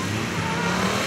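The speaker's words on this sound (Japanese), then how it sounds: "このバイク700のスーパースポーツなんで150馬力を超えてるはずなんですけど" A Yamaha YZF-R7 700cc supersport motorcycle running a gymkhana course, a steady, loud engine drone at speed, heard briefly and alone.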